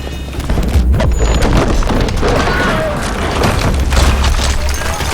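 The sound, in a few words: nearby explosions in video game Battlefield Bad Company 2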